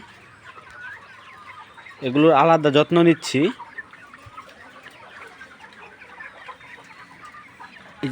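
Layer hens kept apart in a poultry house give a burst of loud, close clucking calls in the middle, with quieter bird sounds and someone talking softly around them.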